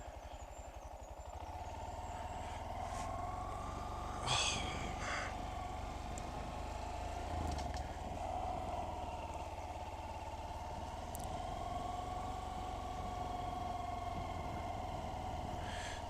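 A motorcycle engine idles steadily and fairly close on a countryside outing in Sussex, a continuous low rumble with faint clattering and small revs, with no talk over it.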